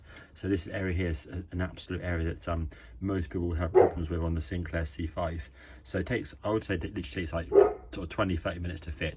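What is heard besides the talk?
dog barking in the background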